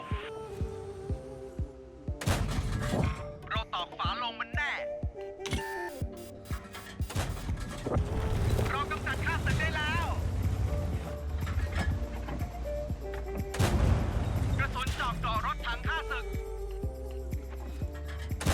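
Tank cannon shots at firing-range targets in the World of Tanks video game: a few heavy booming blasts over a continuous bed of game music and engine hum.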